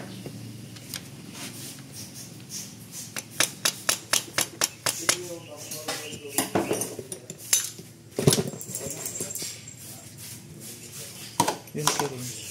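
Metal parts and screws of a Toyota Vios CVT valve body clinking and clacking as they are handled during reassembly, with many sharp irregular clicks and taps while someone talks throughout.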